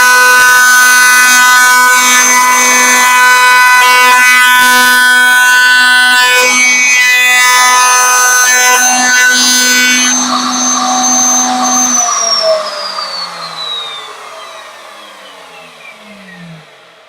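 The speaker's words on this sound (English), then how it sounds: "This time we're going to go with the rotation of the router bit and cut a 1 mil trench." A router cuts a 1 mm trench in wood, running with the rotation of the bit, while making a secrets box. It gives a loud, steady, high-pitched motor whine for about twelve seconds, then spins down and fades away.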